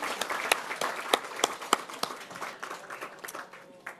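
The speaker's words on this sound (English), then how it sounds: "Can we give them another round of applause?" Applause from an event audience for performers, a thinner crowd with distinct sharp individual claps standing out, tapering off toward the end.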